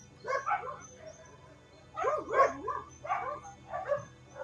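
A dog barks at a neighbour's dog passing close to the fence, giving a short pair of yips, then a louder cluster of three or four barks and a couple of spaced follow-ups, fairly near.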